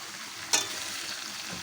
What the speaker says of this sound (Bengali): আমি কিছুক্ষণ এটা কষিয়ে নেবো